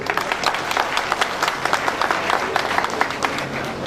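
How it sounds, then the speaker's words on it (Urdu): A workers' union audience at an address in Karachi breaks into loud, sustained applause, a dense, continuous crowd of many hands clapping from start to end. "اگر آپ کو یہ بات سمجھ آئی ہے تو تالیاں بجائیں زور سے۔"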